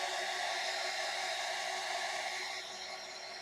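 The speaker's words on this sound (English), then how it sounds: "Hold on, I'm going to hit the dryer." A hair dryer blows steadily at close range, drying paint on a miniature figure, a constant loud whooshing hiss with no talking over it.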